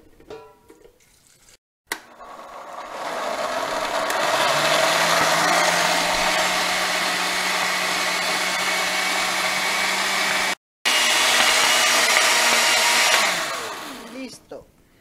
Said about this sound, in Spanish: Ahora vamos a licuar los dos elotes que rebané